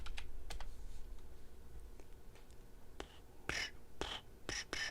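Soft clicks of a quiet computer keyboard, chosen to avoid loud clacky keys, come in short scattered bursts and then a quicker run near the end, close to the microphone with no talking.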